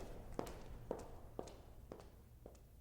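Five crisp, evenly spaced footsteps tap on a hard floor at a measured walking pace, fairly quiet and close.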